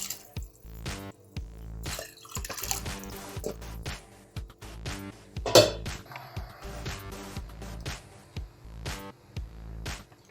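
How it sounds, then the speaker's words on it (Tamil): Water splashing into a cooking pot of tempered masala while making Vellore mutton nonbu kanji, heard as irregular drips and pours mixed with close clatter of the pot and utensils, no talking. "கொஞ்சம் தண்ணியை ஆட் பண்ணிக்கலாம்."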